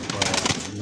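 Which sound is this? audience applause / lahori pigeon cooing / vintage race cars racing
lahori pigeon cooing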